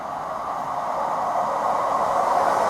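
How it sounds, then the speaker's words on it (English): A Class 156 diesel unit pulls into Woodbridge Station with a steady rushing rumble and a grinding mid-range wheel noise that grows gradually louder, with no voices. "We got a Class 156 unit arriving"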